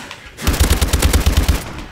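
Rapid burst of automatic gunfire in a shooting video game, roughly a dozen loud, evenly spaced shots firing in quick succession for over a second, close and alone.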